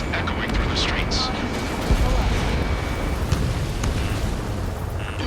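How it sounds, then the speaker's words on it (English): Gunfire and jet roar in the combat flight game Ace Combat 7 rumble in a dense, noisy mix with scattered sharp bursts, while a voice speaks over the action. "Gunfire and the roar of jets echoing through the streets."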